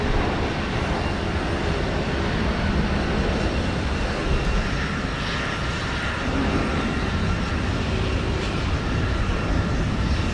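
A Boeing 757-200 jet airliner at Houston Intercontinental airport gives a loud, continuous, broadband engine roar, close and steady throughout with no talk.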